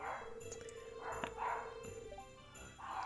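Several dogs bark in short, uneven bursts at moderate distance, with yips and whimpers mixed in over a steady background hum.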